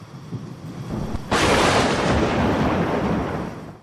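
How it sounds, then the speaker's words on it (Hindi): Heavy thunder cracks suddenly, then a loud crash rolls on for a couple of seconds over the steady hiss of a downpour in a thunderstorm. "बादल गरज और चमक रहे थे, बिजलियां कड़क रही थी और मौसलाधार बारिश हो रही थी।"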